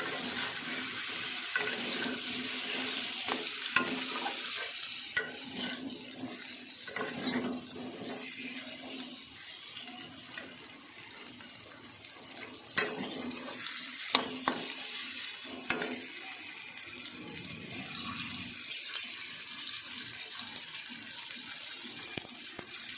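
Pre-fried potatoes go into hot spiced oil in a pan for a vegetarian dish, with a continuous soft sizzle and intermittent scraping and stirring clatter close by.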